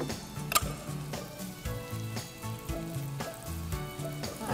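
Zucchini and mixed vegetables sizzle steadily in a hot pan, a soft continuous frying hiss with occasional clicks and stirring taps, fairly quiet and close.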